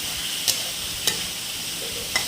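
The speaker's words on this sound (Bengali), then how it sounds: "আবার একটু ভালো করে আলুটা কষিয়ে নিচ্ছি" Potatoes are fried in oil with coriander powder, a constant sizzle punctuated by three distinct scraping strokes of a spatula in the pan, close up and with no speech.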